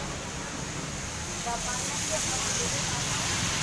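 Heavy night rain pours on a street near a hospital in Ujung Berung, Bandung, a thick, steady roar of water that grows slightly louder, with no talking.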